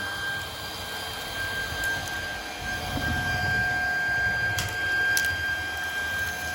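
A Samsung Jet 90 cordless stick vacuum runs steadily on a floor, giving a constant motor whine with a bright high tone and low rumbling airflow, close and continuous with no talking.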